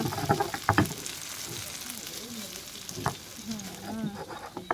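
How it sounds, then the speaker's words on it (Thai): Thai chili curry paste being stir-fried in a pan, a close crackling sizzle broken by a few sharp scrapes of a spatula and brief muffled bumps. "เอาพริกส่วนที่แบบติดคกนะคะไปผัดให้หมดนะคะ"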